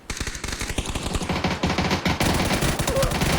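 Rapid rifle fire in a competitive PUBG esports match, a fast stream of sharp shots stacking into a continuous burst, close and loud with a commentator speaking faintly beneath.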